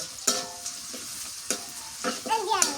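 Fish in a pan is stirred with a few quick spatula scrapes over a soft sizzle, close and brief, with a faint vocal-like sound near the end.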